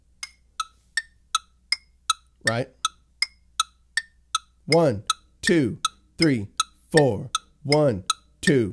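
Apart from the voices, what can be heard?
rhythmic clicking eighth-note pulse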